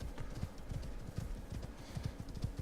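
Horses in the survival game Icarus clatter along in a quick, steady run of hoof clip-clops, loud and close, with no voices over them.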